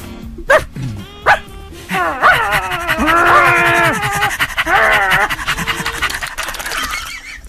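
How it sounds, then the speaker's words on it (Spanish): A dog in a radio studio pants and yips, giving a few sharp barks and whining, warbling vocal sounds close to the microphone. "Que la Martina sabe quién hace, quién, quién ladra ahí"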